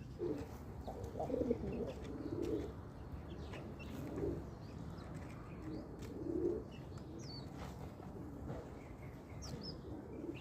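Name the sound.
pigeon cooing on a rooftop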